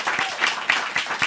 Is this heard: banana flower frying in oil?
no